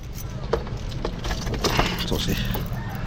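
Keys jangle close by in short metallic clusters right after a car has parked at a small provincial vacation house, with faint vehicle noise underneath.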